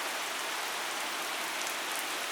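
Rain falls steadily at night on Khao San Road in Bangkok, a soft, even hiss of drops on surfaces with no voices.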